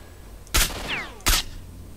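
Two sharp, separate gunshots in the game S.T.A.L.K.E.R. Shadow of Chernobyl, loud and close, about three quarters of a second apart, with a brief whistling ricochet between them over a quiet background.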